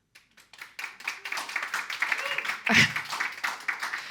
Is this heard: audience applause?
yes